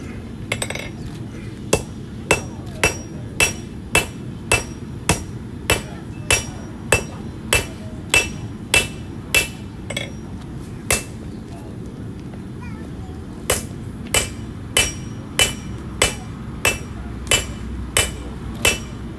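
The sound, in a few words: hammer forging knife steel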